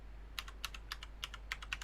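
Someone types a password on a computer keyboard while setting up a Windows virtual machine, about nine crisp, close key clicks in an uneven rhythm over a low steady hum.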